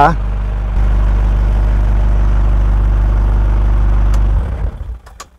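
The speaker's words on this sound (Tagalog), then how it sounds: "Papatayin ko muna ulit tong makina ni Everest" A Ford Everest engine idles with a steady low rumble, then cuts off near the end, the sound dying away into quiet with a few faint clicks.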